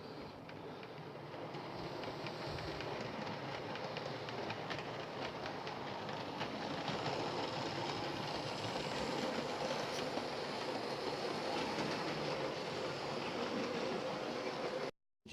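A train on the Adwick lane line gets under way and runs on, a steady rumble with faint rhythmic clatter of wheels that holds at an even level before cutting off abruptly at the end.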